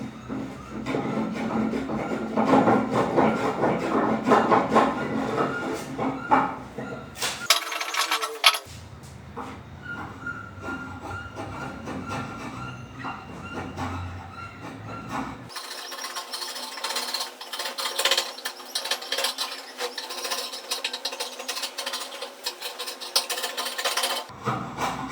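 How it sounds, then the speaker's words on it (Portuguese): Hand carving of a wooden leg with a wood chisel and a drawknife, giving dense, steady scraping and rasping strokes with brief pauses, close and fairly loud, with no talking. "vamos tentar trabalhar esse restante aqui no formão e na plana."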